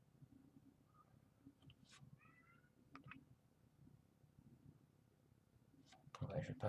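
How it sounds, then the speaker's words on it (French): A pet cat meows a few short times indoors, faint and intermittent under a quiet voice talking through a card game, with a louder burst of noise at the end. "Si vous entendez un chat miauler dans la vidéo, c'est normal, hein. C'est le mien."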